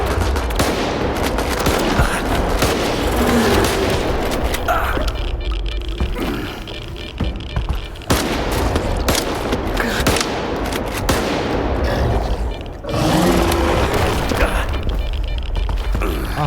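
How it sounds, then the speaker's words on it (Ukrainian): Rapid bursts of gunfire ring out in a firefight in the video game S.T.A.L.K.E.R. 2, loud and dense, with repeated volleys over several seconds and a short lull midway before the shooting picks back up. "по мені стріляють?"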